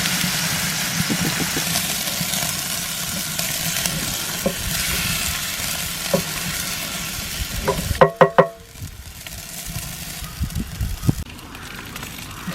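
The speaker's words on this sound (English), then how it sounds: "going to add some stock. And that's going to simmer in there for 5 minutes." Stock simmers in a cast iron pan over an open fire, a soft steady bubbling sizzle with occasional clinks and utensil scrapes, a brief sharp clatter midway.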